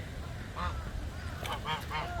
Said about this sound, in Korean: 여기는 또 거위가 있는 곳입니다.